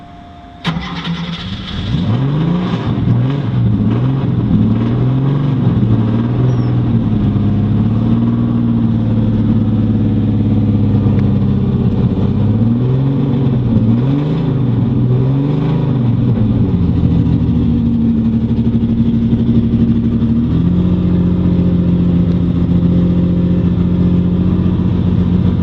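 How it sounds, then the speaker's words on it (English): A blue number 55 race car engine cranks and fires, then runs loud and close with repeated throttle blips rising and falling before settling into a rough, steady idle. "Pump it about 3 times and crack the throttle."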